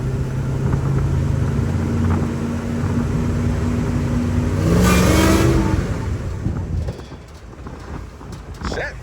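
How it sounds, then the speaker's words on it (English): A 1957 Chevy step-side truck engine runs loud and close from inside the cab with a steady rumble that swells as it is revved. It then eases off, and people talk over it. "Engine's running good."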